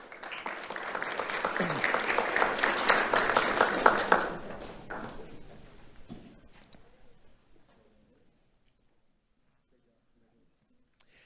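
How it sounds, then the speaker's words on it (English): Applause at an awards ceremony greets recipient Cheyenne Walker, a crowd clapping steadily for several seconds before fading out to near silence, with a faint voice mixed in. "Let's have a round of applause for Cheyenne Walker."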